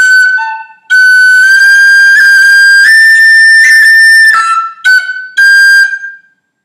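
A tin whistle plays a variation of phrase three from the Irish tune Kitty's Rambles, solo and close, with a long connected run of rolled notes, a brief breath, then two short closing notes.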